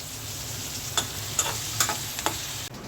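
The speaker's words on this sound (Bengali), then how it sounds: "আর এদিকে 2টা পাঙ্গাস মাছের পিস ভাজি করে নিচ্ছি" Two pieces of pangas fish fry in hot oil, giving a steady, moderate sizzle with a few brief louder crackles and spatters scattered throughout.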